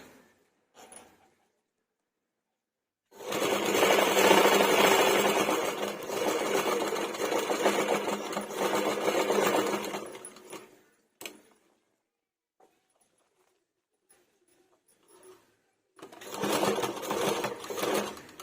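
A sewing machine runs in two bursts while stitching a folded blouse neck, a long steady whirring run of several seconds, a pause with faint handling, then a shorter run at the end; close and fairly loud, with no talk.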